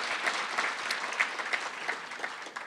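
An audience at the mayor's speech to the Rockford Chamber of Commerce claps warmly, a full, even stretch of applause with a few sharper individual claps standing out, and nobody speaking.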